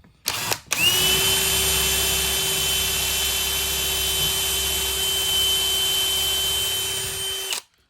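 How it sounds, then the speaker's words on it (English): Power drill boring a pilot hole into wood while building a captain's bed, a brief start then a loud steady high whine running for about seven seconds before cutting off, with no talking. "we're going to put a pilot hole in here so we don't split this wood out"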